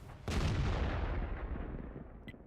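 A single loud artillery gun shot in World of Tanks, a sharp blast followed by a long rumbling decay, heard alone.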